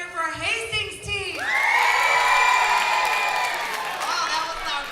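Loud crowd of Hastings team supporters at a school trivia bee bursting into sustained cheering, screaming and whooping, a big hall-filling roar that swells and holds, children's shouts prominent.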